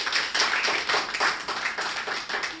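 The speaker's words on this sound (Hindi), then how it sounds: "मेरे स्वागत में दोबारा जोरदार तालियां बजाएं।" An audience at a Hindi poetry gathering claps loudly to welcome a poet, a quick, steady run of hand claps close by with no talk over it.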